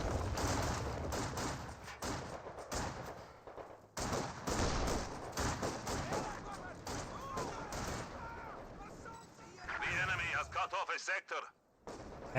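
Gunfire and artillery in the video game Company of Heroes 2 as conscripts fire on a Sturm Pioneer squad, dense overlapping shots and booms that continue steadily with brief gaps.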